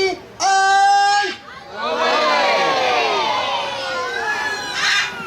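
A children's audience at a parrot show at a Turkish resort hotel shouts "ole" together in loud bursts, followed by excited cheering and screaming from the crowd.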